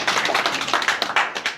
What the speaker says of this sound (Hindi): तो मैं चाहूँगा उनके लिए भी एक बार जोरदार ताली हो जाए।